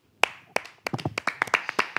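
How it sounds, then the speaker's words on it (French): A small group claps close by, starting with a few scattered single claps and then building into quicker, uneven applause over two seconds. "On applaudit."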